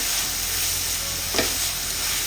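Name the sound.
stirring cabbage and carrot in a pan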